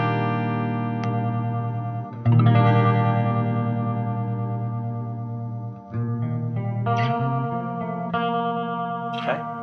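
Sustained electric guitar notes shimmer through a chorus pedal, a few chords and single notes played up close with no talking.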